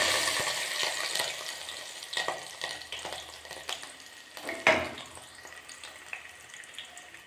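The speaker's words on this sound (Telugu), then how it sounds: "ఇప్పుడు డేషాలో ఆయిల్ తీసుకొని దీంట్లో ఉల్లిపాయ, పచ్చిమిర్చి వేసుకోవాలి" Chopped onion and green chillies fry in hot oil in a kadai, giving a busy crackling sizzle with occasional stirring clicks. It is loudest at first and gradually settles and fades, with no talking.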